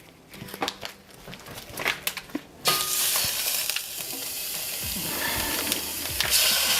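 Ground beef hitting oil in a frying pan, first a few scattered clatters and pops, then a sudden loud, steady sizzle that holds close and continuous to the end, with no talking.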